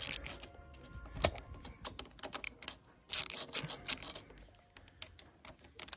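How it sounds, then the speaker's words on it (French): Screws being removed from a motorcycle part: scattered small metallic clicks and taps, with a couple of brief busier bursts of tool contact, fairly close and quiet, no talking. "Donc du coup il faut enlever toutes ces vis là."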